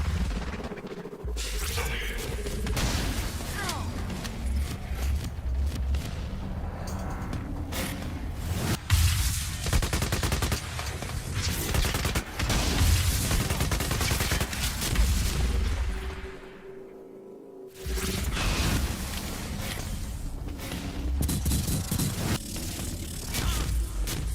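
Gunfire from the video game Quantum Break, where armored juggernauts with exoskeletons fire custom-built weapons. A loud, dense barrage of shots and booms runs continuously with mechanical clanks, dips briefly, then resumes.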